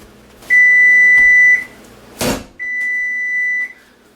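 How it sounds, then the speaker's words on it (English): A kitchen timer beeping while bread is being made, two long steady electronic tones separated by a short thump, loud and close with no talk. "There's our alarm."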